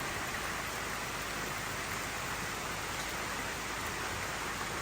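Rain falls steadily on an off-grid homestead in Portugal, a continuous, even hiss without breaks or voices.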